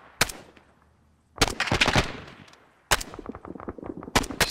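Gunfire in an Arma-style military game: several sharp, loud shot bursts with echoing tails, spaced unevenly and separated by quieter gaps of ambient rumble.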